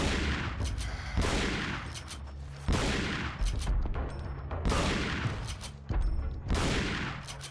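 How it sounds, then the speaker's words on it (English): Shotgun blasts in the video game Resident Evil 4, four loud booming shots spaced a couple of seconds apart, each with a decaying tail and mechanical clatter between. "notice how our shotgun is not doing much to this guy"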